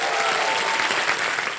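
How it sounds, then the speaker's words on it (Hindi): A television quiz show studio audience breaks into loud, sustained applause, a dense even wash of many hands clapping close by with no voices over it. "तालियां बज जाएं इनके लिए"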